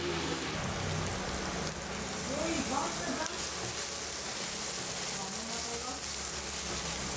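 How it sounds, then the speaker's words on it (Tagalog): Sliced onion sautéing in butter in a hot pan, with garlic to follow, giving a dense, steady sizzle and crackle throughout. "ilalagay na rin natin dito yung ating sibuyas para ito ay gisahin"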